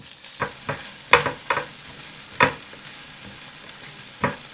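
Leftover egg being cooked in a pan, with spoon scrapes and stirring clatters landing in irregular bursts over a faint sizzle, close by with no voices.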